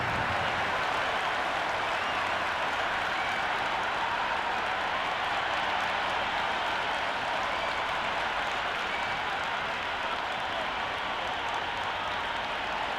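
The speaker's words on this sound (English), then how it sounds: "already the crowd is up and about" Cricket 26 video game stadium crowd before a Big Bash League match between Melbourne Renegades and Brisbane Heat, a steady wash of distant cheering and applause that holds evenly without breaks or talk.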